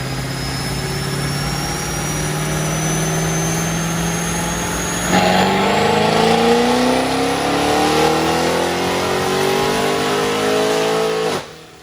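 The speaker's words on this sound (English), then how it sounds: "On the dyno right there, you just heard that pop. That blew the charge pipe off the Pro Charger." A supercharged fifth-generation Camaro with a ProCharger revs hard on a dyno, its engine note and supercharger whine climbing steadily until a sudden pop as the charge pipe blows off. The engine keeps running rougher, then cuts out.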